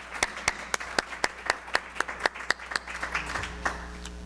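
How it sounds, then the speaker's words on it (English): Sparse, distinct hand claps at a multicultural gala, roughly evenly spaced sharp claps from a small number of people, fairly faint and without talk. "Can I get a round of applause for them?"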